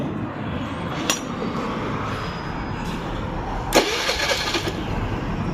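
A Honda Click 110i scooter with low compression cranks repeatedly but fails to start, a loud, close, steady whirring starter churn with a couple of sharper clicks.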